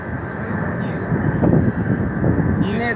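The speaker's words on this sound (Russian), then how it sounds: "О, второй самолет, смотри." Low rumbling drone of a firefighting airplane flying low over a wildfire near Mednogorsk, steady and fairly loud with wind buffeting, while people talk over it.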